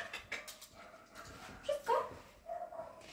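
A dog whimpers and yips in short, uneven bursts while working an indoor nosework search at a beginner-level trial in Wrocław; the whines are faint to moderate with quiet room noise between them.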